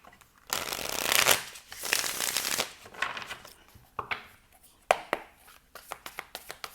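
A deck of tarot cards is shuffled by hand, a long riffling burst followed by a series of short, crisp slaps and flicks as cards are tapped and cut, close and fairly quiet with no voice over it.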